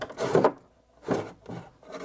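A wooden drawer in a rustic wooden chest slides with a rough, dry rubbing scrape in three short strokes, catching and binding as it moves, with no voices.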